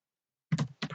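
Keystrokes on a computer keyboard while writing CodeIgniter code, a few quick close clicks in a short burst after silence.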